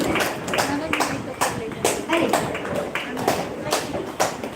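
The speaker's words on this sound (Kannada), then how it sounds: "ಜೋರಾಗಿ ಚಪ್ಪಾಳೆ ಕೊಡಿ ನಮ್ಮ ಬೆನೆಡಿಕ್ಟ್ ಅಮ್ಮನಿಗೆ" Scattered, modest clapping from a live audience at a Tulu talk show, uneven bursts of hands rising and falling under a speaking voice.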